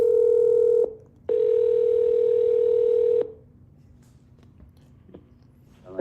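Steady telephone dial tone cut by a brief gap, then resumed for about two seconds before stopping, followed by faint line noise and small clicks during a troubled phone call.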